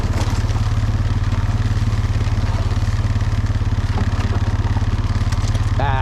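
An ATV engine runs steadily and loudly up close as it drives through a pasture, its rapid pulsing chug continuous throughout with some rattling clatter, no one talking.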